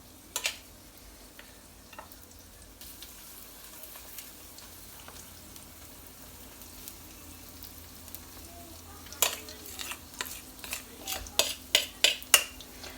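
Paua fritters fry in a pan, a low steady sizzle running throughout while a series of sharp clinks and taps of a utensil against the pan cluster loudly toward the end.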